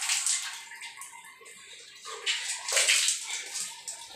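Water is poured and splashed over a wall mixer tap area during plumbing work, a continuous hissing wash with surging pours, close and fairly loud, with no talk.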